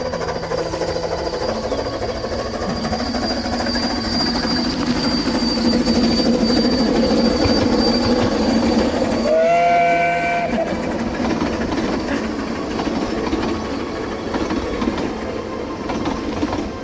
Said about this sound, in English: So the steam train must be running today.